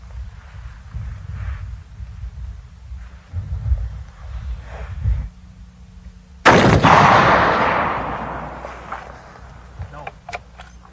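Test firing at a 50 caliber target: a sudden loud gunshot blast about midway that decays slowly, with a couple of sharp cracks after it and quieter rumbling beforehand.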